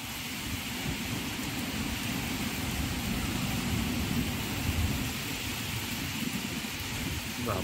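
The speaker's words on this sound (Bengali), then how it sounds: "এত জোরে বৃষ্টি হচ্ছে।" Heavy rain pours in a dense, steady hiss outdoors in Kolkata, joined by low rumbling thunder that swells underneath, continuous and enveloping with no talk.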